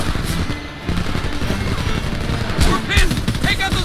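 Gunfire from enemy machine gunners in the shooter game Homefront, with dense bursts of automatic fire and explosive cracks rattling throughout, loud and close, mixed with other battle noise.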